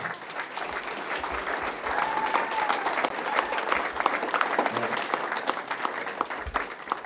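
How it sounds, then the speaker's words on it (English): Steady applause from a crowd at a celebration, filling the space evenly for several seconds with dense, continuous clapping and a few faint voices underneath. "deserve a wonderful round of applause because this is perfect"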